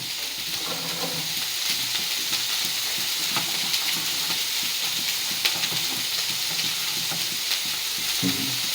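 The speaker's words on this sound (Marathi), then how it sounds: "कांद्यावरती थोडंसं ग गोड तेल टाकायचं म्हणजे काय होईल कांदा व्यवस्थित भाजला जाईल" Onion fries in oil in a kadai, giving a continuous close sizzle and hiss with light stirring scrapes scattered throughout, and no voices.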